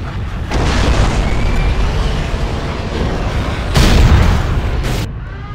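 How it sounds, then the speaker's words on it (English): A nuclear missile strike explodes in the real-time strategy game C&C Generals with the Shockwave mod. A deep, loud, rolling roar fills the whole stretch and swells again partway through, with no speech. "Nuclear missile launched."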